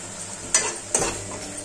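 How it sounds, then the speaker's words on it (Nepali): Cumin and coriander powder masala frying in a pan, with two sharp stirring scrapes over a steady, close sizzle. "अब यो मसला मजाले पाकिन्जेल फ्राई गरौँ"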